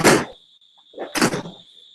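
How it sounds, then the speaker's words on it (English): Crickets outside keep up a loud, steady high-pitched trill through an open window for the whole moment, with a couple of brief louder knocks or bumps nearby. "those crickets are loud"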